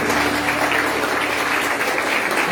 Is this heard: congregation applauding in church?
yes